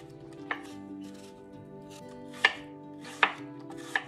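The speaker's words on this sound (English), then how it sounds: "Now I'm gonna peel and slice some apples." Apples from a farm's own trees being peeled and sliced on a board, a few sharp separate knife chops against quiet background hum.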